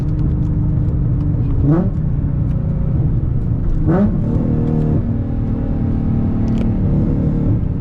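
An E85-tuned Nissan 350Z Nismo drones loudly from inside the cabin, its engine note pulling hard with two brief pitch dips as gears change before climbing again.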